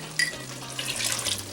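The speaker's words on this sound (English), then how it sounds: "I'm going to put some hot water in it and then we'll add it to it" Hot water running and pouring into saffron while making a cashew chicken curry, a steady close splashing trickle with bright watery spatter throughout, no talking.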